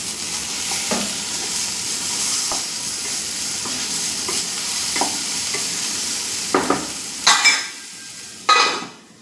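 Capsicum and paneer curry with cashews and tomatoes being stirred in a pan, a steady oil sizzle broken by scraping spoon strokes and a few louder clanks near the end, no talking.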